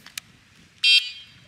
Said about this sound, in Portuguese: Essa é a buzina dela.